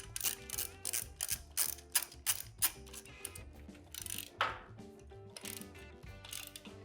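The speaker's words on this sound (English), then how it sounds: "You gotta get your wrench in there" A wrench ratchets on an engine mounting bolt of a Harley-Davidson Ironhead Sportster being set into a hardtail frame, giving bursts of quick, close metallic clicks with short pauses between strokes and no talk.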